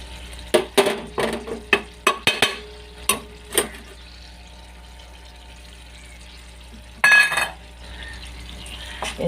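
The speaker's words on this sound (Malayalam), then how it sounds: "എന്നിട്ട് നന്നായിട്ട് ഇളക്കി യോജിപ്പിക്കാം." A spoon stirs a chili powder mixture for chili pickle in a bowl, giving a run of sharp scraping clacks that then stops. After a long quiet pause there is one more short burst of scraping.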